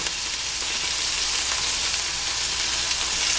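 Veal cutlets frying fast in an oiled pan for veal marsala, giving a steady, loud, close sizzle that holds evenly throughout with no talking.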